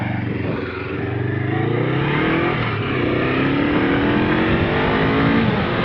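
A Honda CL500 motorcycle on the road pulls away under acceleration, its engine note climbing through rising revs with wind noise, loud and close throughout, with no talking.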